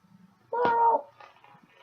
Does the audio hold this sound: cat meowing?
yes